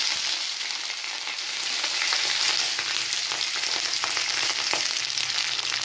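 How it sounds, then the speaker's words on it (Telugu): Green chillies frying in oil in a pan, a steady close crackling sizzle with scattered sharp pops throughout and no talking. "స్టవ్ ముట్టించి బాండ్లీ పెట్టి ఆయిల్ వేసి ఇట్లా పచ్చిమిర్చి వేసిందండి"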